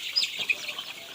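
Chickens clucking and chirping during a poultry vaccination session, several short sharp calls in quick succession at moderate loudness with no talk.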